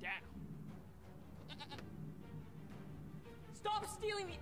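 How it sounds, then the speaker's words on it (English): A real goat bleats a few times, brief wavering cries near the start, middle and end, heard over a low background murmur with people talking indoors. "And that's an actual goat. That is an actual goat."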